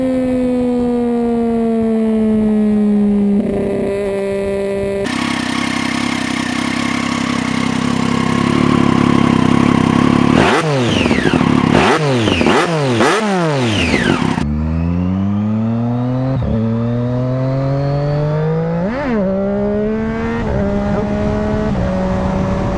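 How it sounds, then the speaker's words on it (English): Triumph Daytona 675 motorcycle with a straight-cut gear transmission, its loud whine rising and falling in a siren-like pitch through several revving runs and gear changes, heard alone without talk. "the Triumph Daytona 675 has this insane transmission whine"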